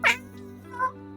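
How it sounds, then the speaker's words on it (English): A cat meows twice up close, a sharp loud cry followed by a softer, shorter one, over a steady low background hum with no talk. "Yeah, cats are very loud."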